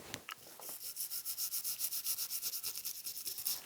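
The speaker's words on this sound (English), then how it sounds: "that's the stick rubbing on my mustache" A stick rubbing back and forth on a mustache, rapid rhythmic bristly scratching strokes, very close and steady, with a couple of louder scrapes at the start.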